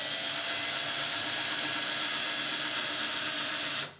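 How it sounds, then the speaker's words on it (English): A 1.5 mm drill bit spinning and boring into a bicycle part during a gravel touring bike build, a steady, even whirring hiss held for several seconds before cutting off abruptly at the end. "just start to drill and see."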